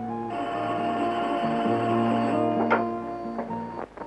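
A telephone rings in an old restored Turkish film, a sustained buzzing ring lasting a couple of seconds followed by a few sharp clicks and knocks.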